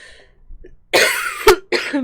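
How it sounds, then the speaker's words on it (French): A loud, harsh cough bursts out close by after a quiet moment, followed by a second, shorter cough; no speech. "Pardonnez-moi pour ma vilaine toux"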